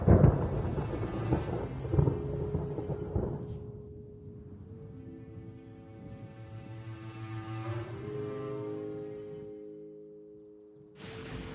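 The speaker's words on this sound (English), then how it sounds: "Paimon hears thunder!" Rolling thunder rumbles in the Genshin Impact game world, a loud low crash that trails off into a drawn-out swell, with sustained tonal game music rising in the background.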